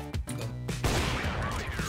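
Gunfire in a CS:GO match: a dense, continuous burst of shots fills most of the clip, loud and close, following a brief musical or tonal passage at the start.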